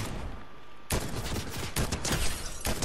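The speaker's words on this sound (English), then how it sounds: "Oh, they're shooting at me." Rapid bursts of gunfire in a battle royale video game, starting abruptly about a second in and continuing as dense, loud overlapping shots that fill the rest of the clip, with no one talking.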